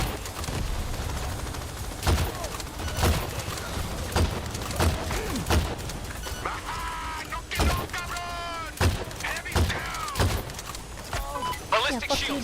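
Video game gunfire: a rapid series of sharp shots and bursts across the whole stretch, some near and loud, heard under frequent excited talking from a player.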